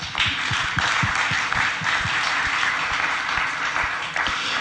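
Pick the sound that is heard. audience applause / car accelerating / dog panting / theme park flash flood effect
audience applause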